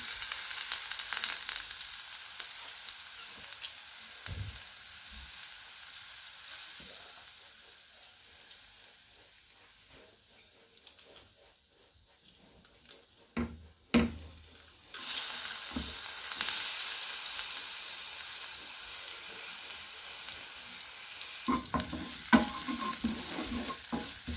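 Garlic sizzling in a pan for a chicken parmesan sauce: a steady frying hiss that dips to quiet midway, with a few utensil knocks and stirring scrapes before the sizzle surges back loud.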